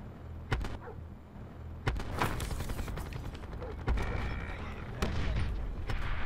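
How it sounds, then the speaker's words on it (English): Cluster grenades going off in Call of Duty Black Ops 4, a string of sharp cracks and booming bursts at irregular intervals amid gunfire and mechanical clatter, with speech mixed in. "He's chucking cluster grenades at them."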